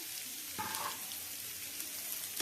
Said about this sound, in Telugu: దీంట్లోకి తోలు తీసి కట్ చేసి పెట్టుకున్న బీరకాయ ముక్కల్ని యాడ్ చేద్దాము.